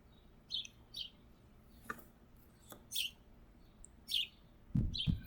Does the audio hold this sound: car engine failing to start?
no